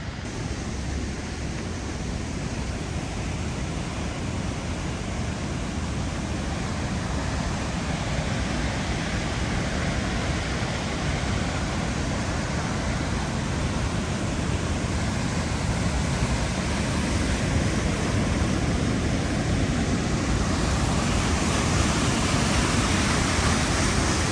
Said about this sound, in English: we'll go do the waterfall view first